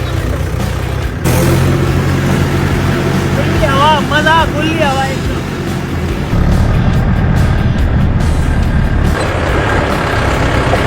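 A tractor rumbles along with its engine running steadily, a loud continuous low drone with wind noise, while people ride and talk over it outdoors.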